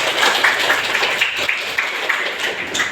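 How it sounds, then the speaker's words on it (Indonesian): A university classroom of students claps at the close of a lesson, a steady patter of hands that runs throughout the few seconds without pause. "Tepuk tangan"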